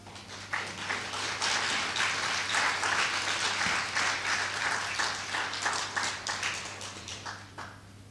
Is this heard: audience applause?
yes